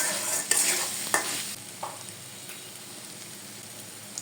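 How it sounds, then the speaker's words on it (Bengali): Fried potatoes with salt and spices are stirred in a pan, a few sharp scrapes and clinks up front, then a quieter, steady sizzle as the sauté continues. "ভেজে রাখা আলুগুলো দিয়ে পরিমাণ মতো লবণ দিয়ে আবারও ভালো করে কষিয়ে নিচ্ছি"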